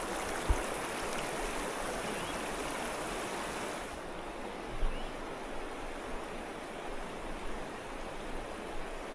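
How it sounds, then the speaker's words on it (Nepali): Continuous rushing and babbling of a mountain stream at Lapchi, Dolakha, Nepal, broad and steady throughout, with no voices. "यही लप्चीको पाटनको छातीबाट बगिरहेको कल कल खोला"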